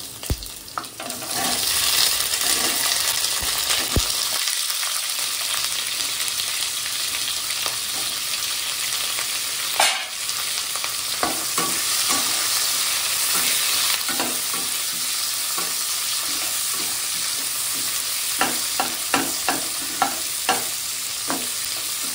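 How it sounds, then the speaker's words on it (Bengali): Large-cut onions frying in hot oil for mutton korma, a loud continuous sizzle broken by repeated stirring scrapes and clicks of a spoon against the pan. "এবার এই তেলে প্রথমে এই বড় বড় করে কেটে রাখা পেঁয়াজটা হালকা করে ভেজে নেব"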